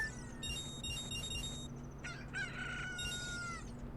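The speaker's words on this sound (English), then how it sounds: "And our chicken's awake." A rooster crows in the video game The Legend of Zelda: Ocarina of Time, two clear, loud, tonal crowing calls over a steady hum of game background sound.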